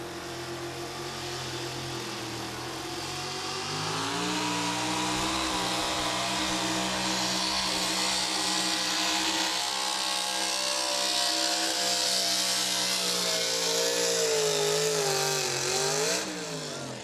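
A 1966 Chevrolet pickup truck's engine roars loud and steady at a truck pull, climbing in pitch as it charges down the track, with the drone sustained throughout.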